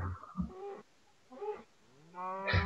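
A cow mooing on a farm, three drawn-out lowing calls separated by short pauses, moderately close and clear, with no talk over them.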